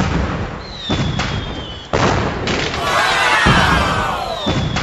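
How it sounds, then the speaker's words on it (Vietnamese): Long-range fireworks launch at night, several thumping bursts followed by crackling and whistling trails, loud and near. "Pháo hoa tầm xa đâu, bắn lên."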